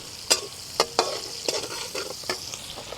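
Shallots fry in a pan with a steady sizzle, broken by several sharp scraping stirs spaced about half a second apart, close and fairly loud.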